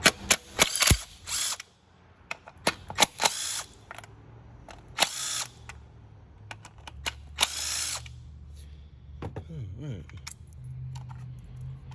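A power tool whirs in short bursts removing 10mm bolts on a 2017 Nissan Altima, with metallic clinks and rattles between the runs, close by.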